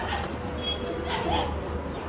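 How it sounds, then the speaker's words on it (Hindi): Red-eyed pure high flyer pigeons coo softly in a close, low murmuring drone, a continuous rounded hum with little break, heard near and without speech over it. "रेड आइज के कबूतर है ये प्योर हाई फ्लायर कबूतर"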